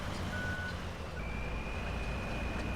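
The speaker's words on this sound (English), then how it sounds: "So I back the truck up, get the trailer as far away from the tree stump as I can" A truck's reversing alarm in the SnowRunner video game sounds as steady high-pitched beeps over a low rumbling engine idle, close and fairly loud.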